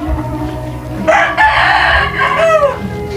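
A rooster lets out one loud, close crow that rises and trails off, over a low background hum.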